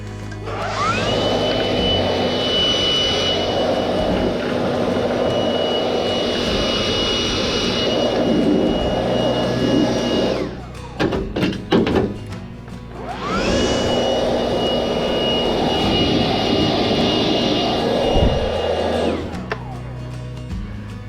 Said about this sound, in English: this next part gets a little noisy because I use the blower